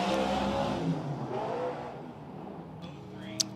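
A race car engine roars on a lap at Silver Dollar Speedway, a strong droning whine that gradually fades as the car pulls away, followed by a sharp click near the end.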